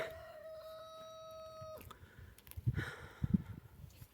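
Rooster on a Turkish village farm crows in a long, clear call near the start, followed by a few close hens clucking in short bursts, with no talk.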